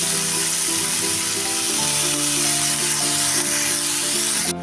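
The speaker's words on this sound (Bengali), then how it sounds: "এবার আমি শাকগুলো আগে ভেজে নেবো তেলের মধ্যে শাকগুলো দিয়ে দেবো" Bathua greens fry in hot oil with salt, a steady loud sizzle running throughout, with a faint tonal hum underneath, ending abruptly.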